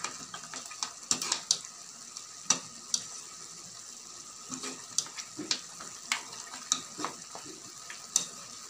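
Butter garlic sauce reducing in a pan with seafood and corn, a faint steady sizzle dotted with irregular soft pops and crackles, no voices.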